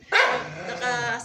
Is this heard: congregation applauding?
no